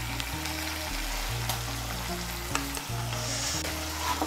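A paste of ground ginger, tomato, cumin and coriander fries in a pan with a steady close sizzle, broken by a few scraping stir strokes and clinks of the spatula, and no voices.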